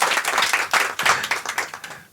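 A small audience claps in uneven bursts at a televised French interview with a singer, the applause close and lively, rising and dipping for about two seconds with no talk.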